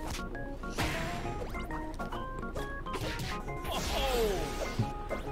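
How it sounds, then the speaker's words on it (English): Rapid punching and kicking hits from Sandy Cheeks in the Nickelodeon All-Star Brawl fighting video game, a loud run of crashing whacks and thwacks over game music, with a swooping effect near the end. "I like Sandy's sound effects, like the her punching and kicking"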